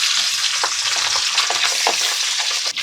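Pabda fish pieces dropped into hot oil in a pan give a loud, continuous crackling sizzle up close, with a few sharper pops and spatters and no talking.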